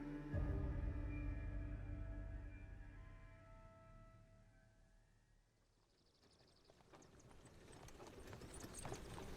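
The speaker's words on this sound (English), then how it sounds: "we watch a horse-drawn carriage pulled by two well-kept hackney horses, the coachman pulling up the reins as they come to a halt" Two well-kept hackney horses pull a carriage, hooves clip-clopping steadily and fairly close before slowing toward a halt, with the wheels and harness adding rattling mechanical noise near the end.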